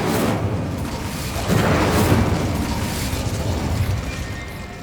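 A fiery Incendio spell blast in Hogwarts Legacy, a loud broadband whoosh and boom that swells around the middle and rumbles on for several seconds, with no voices over it.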